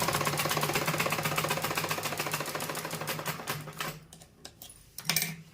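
Sewing machine stitching the folded corner of salwar fabric, a fast steady run of needle clatter with a low hum that stops near the end, followed by a few isolated clicks and a brief final burst.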